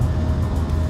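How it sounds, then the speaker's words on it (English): A low, steady rumbling roar of thrusters from eight ships at once in the Space Engineers video game, forming a continuous, even drone. "we do get a bit of thruster noise sitting on there because we've got the thrusters attached to us"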